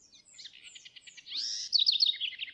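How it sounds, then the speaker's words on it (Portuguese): A Pale-breasted Thrush, or sabiá-barranco, sings one short, clear, warbling phrase of rapid, repeated notes that rises into brighter whistled syllables, close and alone against silence. "Sabiá barranco."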